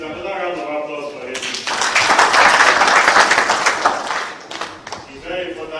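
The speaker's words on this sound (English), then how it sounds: "another round of applause for him" A round of applause from a course audience at a disaster management training event in Abuja swells into dense, sustained clapping for a few seconds, then fades, with talk before and after.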